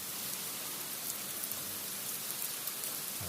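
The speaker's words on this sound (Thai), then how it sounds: "ฝนนะครับ" Rain falls steadily during a storm amid flooding, a dense continuous hiss with scattered droplet ticks, fairly loud and close with no voices.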